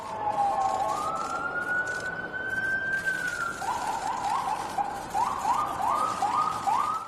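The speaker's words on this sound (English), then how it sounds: "As sirens blared in the background" Police sirens wail in a street during a news report, a long rising tone giving way to repeated fast yelping sweeps, moderately distant over a steady background rumble.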